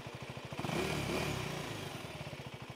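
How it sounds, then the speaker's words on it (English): A Husqvarna Svartpilen 401 single-cylinder motorcycle idles close by with a steady, even thump, briefly blipped up a little in the middle before settling back to idle, with no talking. "this is how it sounds at idle."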